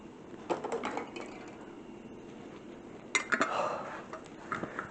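Metal canning lid set onto a hot jar of apricot jam and screwed down, a few close metallic clinks and scrapes in two short bursts separated by a quiet gap.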